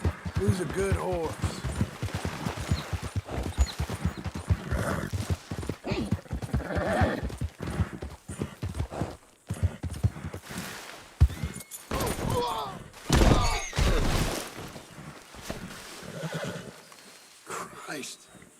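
A horse in Red Dead Redemption II whinnies and its hooves clip-clop steadily and close by, under nearly constant talk across the whole stretch.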